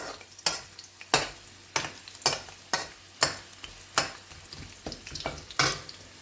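Chicken frying in a pan for garlic chilli chicken, stirred in regular strokes: about nine sharp scraping stirs over a steady low sizzle, close and moderately loud, with no talking.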